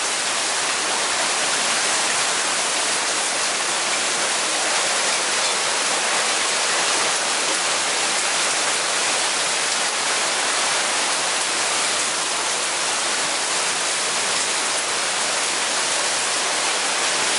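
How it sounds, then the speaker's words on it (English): Light rain shower falling outdoors, heard as a constant broadband wash of drops that holds steady and fairly loud throughout with nobody talking. "This is just a shower, but I'll take anything I can get."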